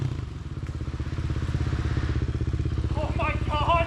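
A four-stroke dirt bike engine pounds in a fast, rapid rhythm close by on a steep hill climb, with clattering and a short high whine near the end and no voices.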